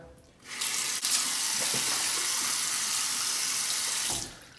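Hot then cold tap water runs into a sink for a final face rinse after a straight-razor shave, a close, steady rushing stream lasting several seconds with a few small splashes before it stops.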